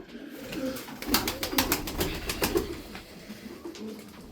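Several pigeons coo in soft, throaty bursts close by, their calls overlapping against a quiet background with a few sharp clicks.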